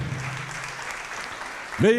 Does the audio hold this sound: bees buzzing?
no